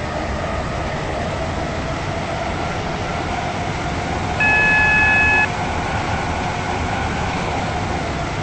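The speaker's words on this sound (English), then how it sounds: "This train is now approaching Angel Pass." A steady electric train rumble from a Class 707 train in the video game SCR rolls on throughout, with a brief two-tone electronic beep in the middle as it approaches Angel Pass station.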